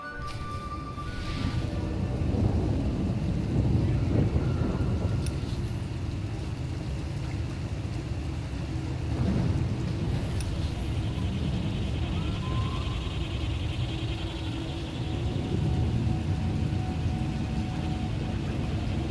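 Steady rain and a low stormy rumble fill a thunderstorm scene in the video game Star Wars: Knights of the Fallen Empire, a continuous wash of noise with faint distant rolls and no talking.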